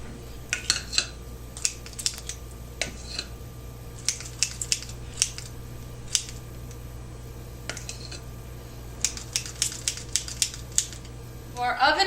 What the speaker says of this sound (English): we're going to put a scoop in each of the cup holders and repeat it twice